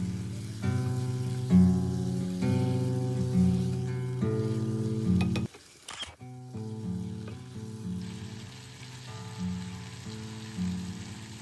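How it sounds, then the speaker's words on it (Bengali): Marinated chicken with store-bought ginger garlic paste sizzling and frying in a pan, a steady close crackle with a brief clatter of stirring midway, no talking. "তারপরে ম্যারিনেট করা চিকেনটা দিয়ে দিলাম।"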